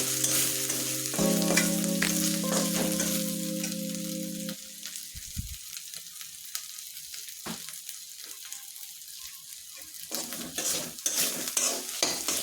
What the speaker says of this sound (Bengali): ভালোভাবে নাড়াচাড়া করে নিই